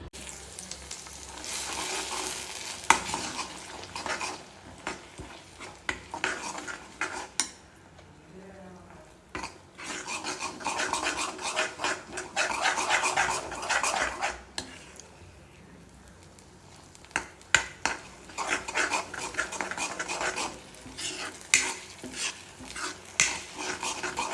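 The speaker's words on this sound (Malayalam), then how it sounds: "ആ എണ്ണയിലിട്ട് നമ്മുടെ ഈ ഒരു മിക്സ് നമുക്ക് മൂപ്പിച്ചെടുത്താൽ നല്ല അടിപൊളി മുളക് ചമ്മന്തി റെഡിയാവും" Chilli chutney mix frying in leftover onion oil in a pan, a steady close sizzle with occasional stirring and utensil clinks.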